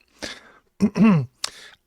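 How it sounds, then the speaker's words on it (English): A few short, harsh coughs close to the microphone, separated by brief pauses. "Cough there."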